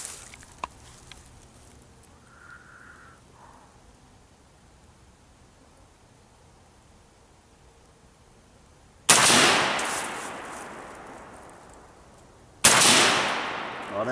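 Two sharp rifle shots from a Colt M4 carbine crack out about three seconds apart after a long quiet stretch, each loud and close with a decaying echo tail.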